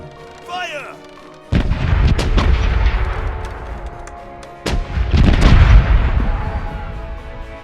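Heavy naval cannons on a pirate ship in the game Corsairs Legacy fire in two big booming volleys that roll and rumble. A short whistling tone comes before them and a quieter stretch sits between them.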